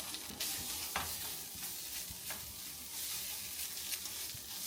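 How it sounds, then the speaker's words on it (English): Tomato paste sizzling in a hot pan: a dense, loud hiss of frying fills the whole stretch, with a few short scrapes from stirring, and no voices. "We're gonna add the tomato paste."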